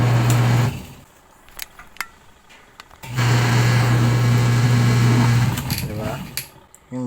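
Washing machine motor humming steadily after being plugged in, cutting out and then running again for a few seconds, close by, with light clicks and handling noises between.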